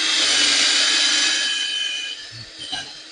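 Power drill boring holes for a tomato string trellis in a hoop house, a steady high whine running loud and close, then easing down and slowing near the end with a few small knocks.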